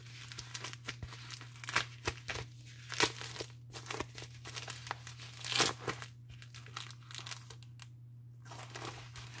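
Paper envelope being opened by hand, irregular crinkling and tearing bursts close up and fairly faint, with a steady low hum in the background.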